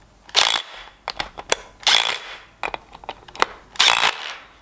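A hand ratchet tightens bolts on the engine of a Ford Sierra Cosworth. It makes three close bursts of rapid clicking, with scattered single clicks and knocks between them and no talking.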